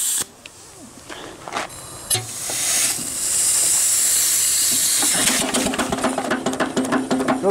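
Sharp hissing bursts give way to a steady rush of escaping air, then a quick rhythmic chuffing of a small steam engine running on compressed air, with light mechanical rattle.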